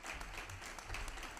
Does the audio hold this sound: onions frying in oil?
no